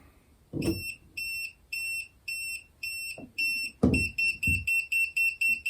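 A TACKLIFE AC voltage detector gives repeated high-pitched warning beeps in short, regular bursts as a circuit is switched back on, speeding up into a faster pulsing pattern, with a few soft handling thumps underneath.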